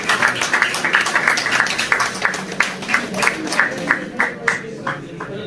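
Applause for a guest being introduced at an all-Kashmir pigeon tournament event, a steady crowd clapping throughout with individual claps standing out, continuous and fairly loud.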